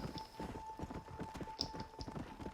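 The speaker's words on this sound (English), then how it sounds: "All I'm doing is riding the horse." A horse's hooves clip-clop in a steady walking rhythm while riding in the Red Dead Redemption: Undead Nightmare video game, fairly quiet with a faint tonal hum beneath.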